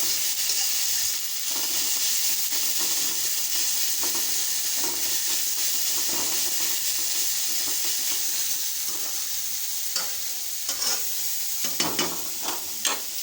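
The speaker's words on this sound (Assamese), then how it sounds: "বাকী মছলা অকণমান মছলা দিম, হালধি আৰু চব ৰঙাকৈ ফ্ৰাই কৰি ল'ম" Masala spices and turmeric fry in a pan with a continuous close sizzle and hiss, broken by scattered stirring scrapes and small pops, with no talking.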